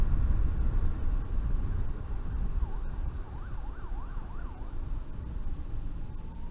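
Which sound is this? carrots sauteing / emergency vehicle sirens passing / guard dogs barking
emergency vehicle sirens passing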